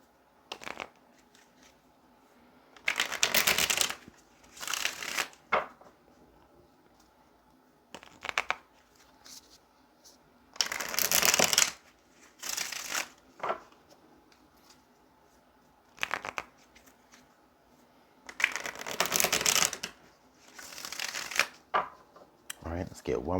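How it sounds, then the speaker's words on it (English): A deck of cards shuffled during a tarot-style reading, heard as several separate riffling bursts of a few seconds each, close and fairly loud, with quiet pauses between them. "So let's go ahead and get a couple of good shuffles."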